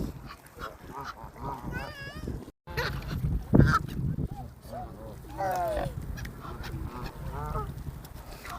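Ducks honking and quacking in a busy flock, with repeated calls overlapping over steady outdoor noise while a person talks.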